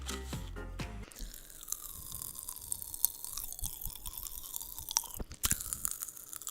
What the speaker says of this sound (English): It's just Pop Rocks.